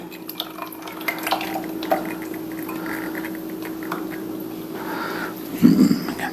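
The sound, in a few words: mixing cooled butter into the wet ingredients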